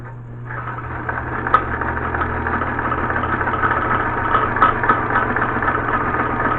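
A Kenmore sewing machine runs a zigzag stitch with white thread, a steady close mechanical whir and rapid needle rhythm that holds evenly for several seconds with a few light clicks.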